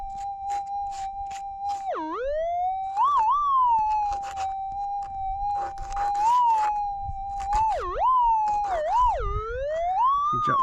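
A gold-hunting metal detector sweeps over a gold nugget dropped onto its coil, producing a loud, continuous warbling tone that dips and rises repeatedly, with rustling handling noise underneath.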